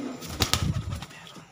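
A high-class pigeon on a rooftop loft gives a few sharp wing claps and flaps, then a short, low coo, close and fairly loud, with no voices over it.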